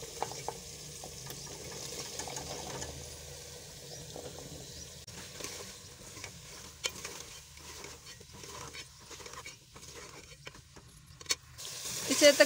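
Pumpkin tipped into a pan of frying masala spiced with dried coriander, giving a soft continuous sizzle with stirring scrapes and small clatters close by, while a person talks over parts of it.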